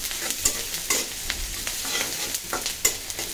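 Eggplant fries in a covered pan over lowered heat, giving a continuous close sizzle with scattered sharp pops and light spatters, loud and steady with no voices.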